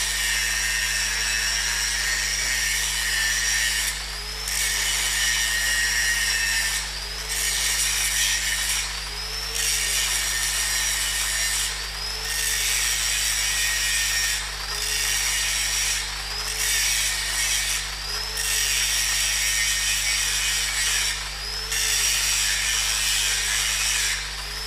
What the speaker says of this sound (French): Elle consiste à creuser une saignée semi-circulaire pour atteindre la partie saine de la soudure et s'exécute avec une meule large.